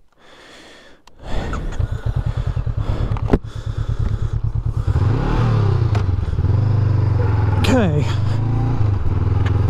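A 2021 Honda CB500X motorcycle rides a sandy desert track, the engine starting with choppy pulses before rising into a loud, steady drone with a couple of sharp rev swells. A rider speaks briefly.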